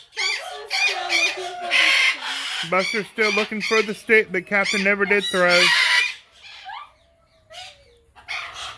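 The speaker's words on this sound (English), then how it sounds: "And the birds are screaming in my ear." Pet macaws scream and squawk loudly at close range in harsh, repeated bursts, trailing off near the end, while someone talks over them.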